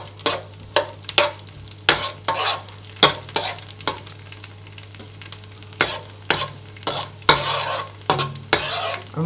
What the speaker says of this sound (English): Dry sausage first. See, I move away from the fire because this dry sausage is very easy to burn.